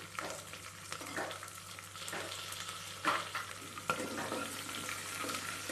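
Green chillies and shallots fry in a pan with a continuous close-up sizzle, broken by a few sharper stirring scrapes and clatters.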